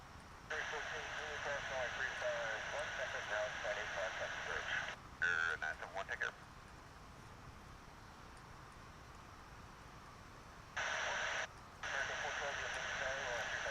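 A Boeing 767 jet airliner at Dallas-Fort Worth International Airport on a gray, damp day, its steady engine roar running through the clip beneath a voice.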